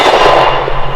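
A Glock 20 10mm pistol fires PMC 200-grain full metal jacket rounds on an outdoor range at 50 yards, giving a loud, sharp blast that rings out broadly with no talk.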